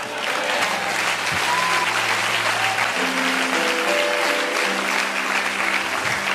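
A church congregation applauds steadily and loudly throughout, a dense continuous wash of clapping from a crowd, with a few sustained musical tones audible faintly underneath.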